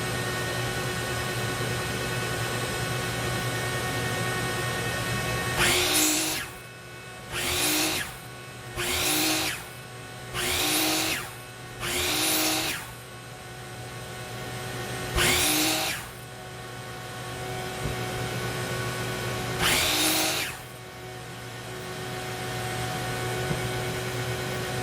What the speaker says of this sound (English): I'm going to cut the 2-inch one first